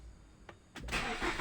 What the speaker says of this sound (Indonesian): ini kita coba untuk starter ya, untuk mesinnya